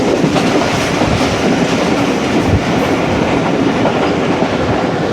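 Pak Business Express passenger train running at speed between Rohri and Karachi, a steady loud rumble of coach wheels on track with faint rhythmic clickety-clack, heard from inside the carriage with no voices.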